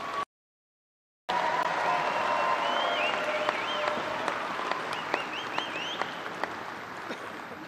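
A large commencement audience at Angelo State University's fall graduation applauds graduates in a long, steady wave of clapping that fills the hall after a brief silence, with a few rising whistles over the dense applause.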